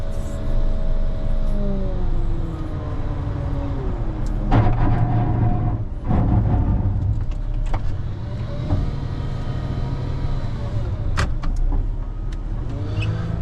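Snow plow truck engine running steadily while plowing snow in a full parking lot, a continuous near rumble with shifting tones and occasional scraping clunks and bumps.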